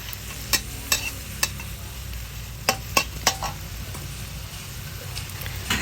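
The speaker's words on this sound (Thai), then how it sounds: "ผัดจนหมูสับสุกเลยนะคะ" Minced pork stir-fries in a hot pan with a continuous sizzle, punctuated by sharp, irregular spatula taps and scrapes against the metal.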